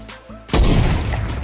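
Gunfire in the video game Fortnite, a sudden loud burst of shots and booms that breaks in after a quieter moment and rings on to the end.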